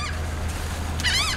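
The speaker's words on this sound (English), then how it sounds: "Them seagulls." Seagulls call near a fishing boat, a couple of short wavering cries rising over a steady low engine hum.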